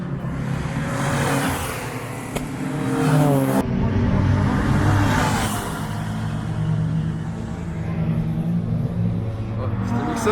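A Mazda MX-5 passing on a race track circuit, engine rising as it approaches and fading away, heard twice under ambient noise and a speaking voice.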